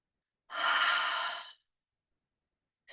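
A single long, soft exhale during a yoga pose, close and quiet, lasting about a second, followed by silence and the start of another breath.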